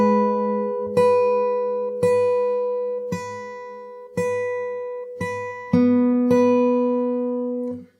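A guitar riff from a song played on open strings, with seven evenly spaced plucked notes ringing out and decaying over a sustained low drone, played alone with no talk.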